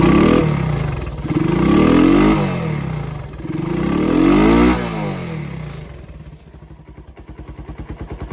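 A Honda ATC 125M three-wheeler engine runs close and loud after a carburetor rebuild, swelling and falling through two revs before settling into a low, lumpy idle with distinct pulsing beats.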